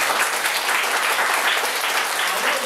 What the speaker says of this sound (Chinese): 好，那我们就是拍手谢谢。